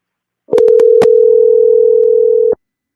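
Telephone tone heard while a call is being dialed, a single steady electronic tone lasting about two seconds, loud and close, with a few brief clicks over its start.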